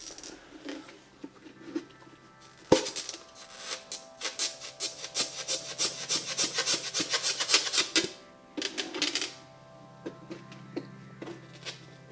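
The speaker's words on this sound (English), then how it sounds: "So here I am scuffing the projector up." A Scotch-Brite pad scuffs the plastic projector of a Ford F250 headlight. Close, rapid rasping strokes come in a dense run, then a shorter burst, with quiet pauses between them.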